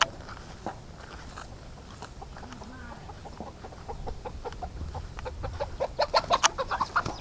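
Chickens cluck around a duck and chicken pen on a rural farm, with scattered short clucks and pecking sounds over a low outdoor background, growing busier and louder toward the end.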